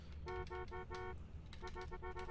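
Car horn honking in GTA, a series of short, tonal toots in two clusters, some blasts longer, heard clearly over a low background rumble.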